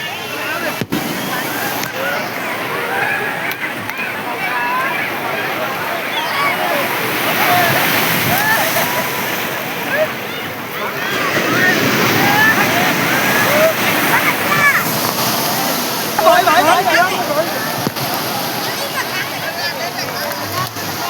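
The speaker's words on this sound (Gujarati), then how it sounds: "એ પાણીમાં નાહી રહ્યા છે અત્યારે" People bathe and splash in the sea at Madhavpur beach, a steady wash of surf and sloshing water filling the scene, with voices talking and calling throughout and a louder burst of splashing near the end.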